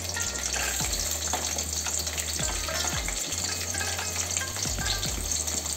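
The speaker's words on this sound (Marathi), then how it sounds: "मातशे तामसर जावसर कांदे तळसुवपाक जाय।" Onions with green and red chillies frying in oil in a kadai, a steady dense sizzle throughout with occasional stirring scrapes, close and continuous with no talk.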